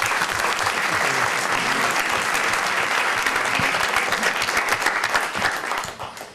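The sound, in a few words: audience applause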